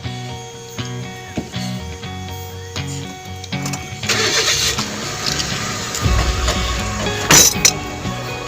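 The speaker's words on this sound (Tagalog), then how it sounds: "ang ganda ng tunog ng kanyang makina" Suzuki kei vehicle engine cranking and catching after several clinks, then settling into a steady, fairly loud running hum up close.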